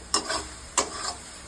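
Spice paste for a mutton curry sizzles in hot oil as it is stirred, with two bright scraping bursts of frying about half a second apart, close and fairly loud, over a low steady hiss.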